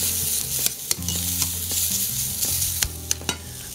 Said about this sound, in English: Let's give our zucchini a stir because it's almost there